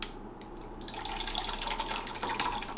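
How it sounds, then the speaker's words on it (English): Freshly blended steak sauce poured from one vessel into another container in a home kitchen, a steady close liquid splash and trickle that grows fuller after the first second and runs on alone. "I'm just going to pour this off into"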